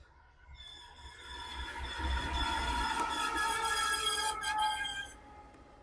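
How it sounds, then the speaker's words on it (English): A train rolls past near a disc golf course, its tonal horn-like hum and wheel noise swelling as it nears, holding loud for a few seconds, then cutting off. "Oh boy, here comes the train."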